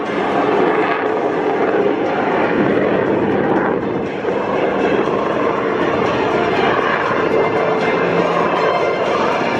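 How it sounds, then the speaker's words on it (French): A Mirage 2000 jet flying alongside an Epsilon trainer at an airshow in Meaux, a loud continuous roar of jet engines that holds steady for nearly ten seconds with only slight swells. "Le pilote de Mirage 2000 va accompagner l'Epsilon en panne jusqu'au toucher des roues avant d'effectuer une remise de gaz."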